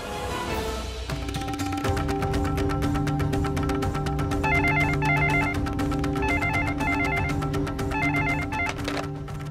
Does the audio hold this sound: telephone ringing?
yes